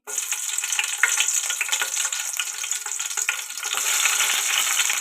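Green chillies frying in hot oil in a kadai (wok), a steady bright crackling sizzle that runs throughout, close and fairly loud, with no voices.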